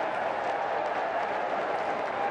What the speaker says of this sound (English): Crowd gets something to roar about